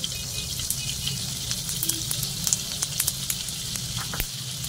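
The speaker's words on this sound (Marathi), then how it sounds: "तेल चांगलं तापलं की त्याच्यामध्ये घालते जिरं" Cumin seeds crackle and sizzle in hot oil in a pan, a steady close hiss dotted with small pops and snaps, no talking.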